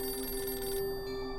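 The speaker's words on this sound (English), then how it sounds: "when the phone rang" A telephone rings in a home in New York State, a steady electronic bell tone that sounds clearly throughout and then continues more thinly, with no voices.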